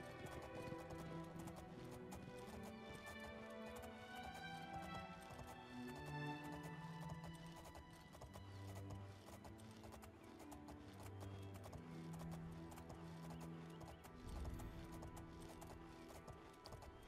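Horse hooves clip-clop in a steady rhythm in the video game Oblivion, fairly faint, with occasional whinnies and a faint voice in the background.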